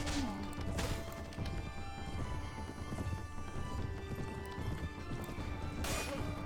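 Galloping horse hooves clip-clop steadily in a Mount & Blade Warband medieval battle, with sharp weapon impacts, a whinny and scattered combat clashes layered over a dense, busy field of noise.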